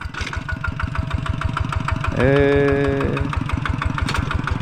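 A Kubota ZT tractor's diesel engine runs with a steady, chugging, even knocking rhythm, close by, with a brief rise in pitch partway through.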